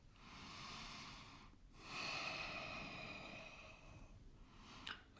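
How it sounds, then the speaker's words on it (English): Slow, even breathing during a shoes-on stretching warm-up: a long soft exhale, a brief pause, then another drawn-out breath, close to the microphone and quiet, with no talking. "Nice and even breathing still."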